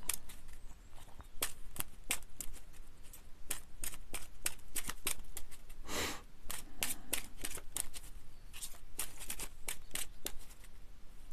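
Tarot cards being shuffled and handled close up, a long run of crisp flicking and riffling snaps in an irregular rhythm, with one louder burst of slapping cards midway and no talking.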